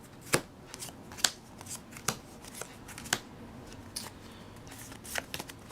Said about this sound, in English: now let's go through and sort through our different colored cards